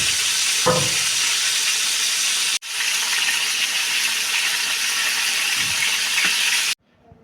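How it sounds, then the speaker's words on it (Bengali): Prawns seasoned with turmeric powder and salt sizzle steadily in hot oil as they are turned in the pan, a continuous close frying hiss with a brief break partway through and a few soft stirring clunks, no talking. "মাছগুলো একটু উল্টিয়ে ভেজে নিতে হবে।"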